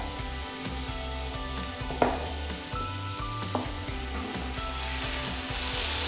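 Beef medallion steak sizzles steadily on a hot grill, a continuous close frying hiss with a couple of sharp metallic clicks partway through.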